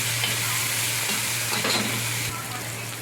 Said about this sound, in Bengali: উচ্ছেগুলো দিয়ে প্রথমে একটু ভেজে নেব